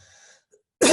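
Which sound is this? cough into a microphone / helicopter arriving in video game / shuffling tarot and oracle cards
cough into a microphone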